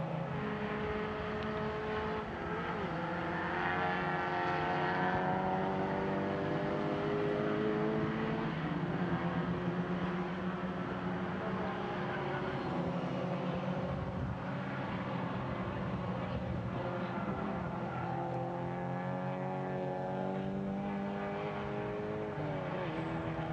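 Iberian Supercars race cars, including a Jaguar XJS, lapping the Estoril circuit, engines revving and rising in pitch as they pass. A steady, loud roar runs throughout without a break.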